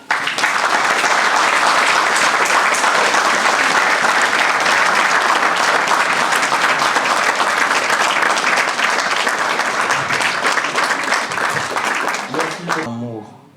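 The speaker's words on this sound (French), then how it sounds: "je propose de faire un tonnerre d'applaudissements pour tout ce qu'elle a fait" Loud, sustained applause fills a church during a thanksgiving mass for Maman Bernadette N'Tentchou. A dense wash of many hands clapping continues unbroken, then fades out quickly at the end.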